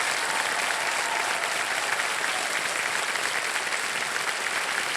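Steady, dense applause from the studio audience of the quiz show KBC, with loud continuous clapping and no break across the whole stretch.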